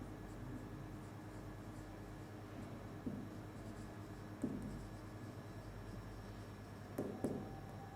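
Chalk or marker strokes on a classroom board during a math lesson, a few faint scratchy taps spread over steady room hiss, with no talk.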